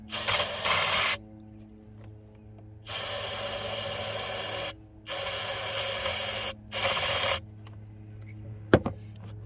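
An aerosol can hisses into the engine of a 2004 Ford Expedition with a 5.4L engine that cranks but won't start. Four loud, close bursts of spray of varying length are separated by pauses, and a faint clink comes near the end.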